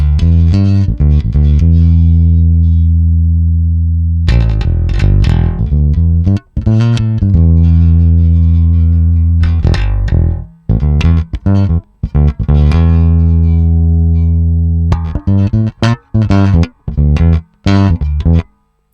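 A bass guitar plays through a Gallien-Krueger MB800 amplifier with high mids boosted, a bright, edgy midrange tone, sustained notes giving way to choppy plucked phrases, loud and upfront.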